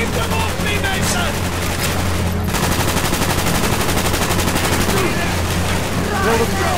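Sustained automatic gunfire in the Black Ops video game, a dense continuous barrage of rapid shots over battle noise, loud and close throughout with a shouted voice briefly in the mix.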